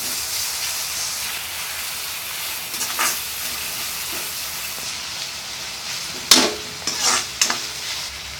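Chopped ginger sizzling in hot oil in a pan while a spoon stirs it, making a steady soft hiss with a few louder scraping bursts near the end, close and without talk.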